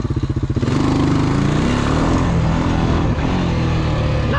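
An old Honda four-wheeler ATV engine chugs at low idle, then revs hard and holds a loud, strained roar while mudding in second gear, close and with no voices.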